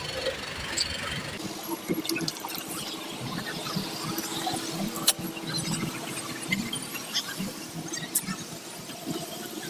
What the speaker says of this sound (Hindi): ये देखें ज़रा, ट्रैफिक जाम